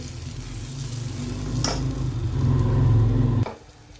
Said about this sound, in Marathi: आता आपण भाज्या टाकून घेऊ